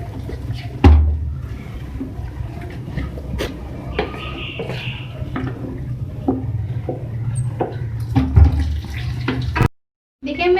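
Water is poured into a pot of beef chana dal pulao cooking with yakhni, a steady splashing pour with a few clatters and knocks of utensils, and a short silent gap near the end.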